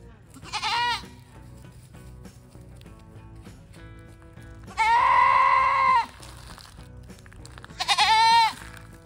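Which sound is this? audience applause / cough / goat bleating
goat bleating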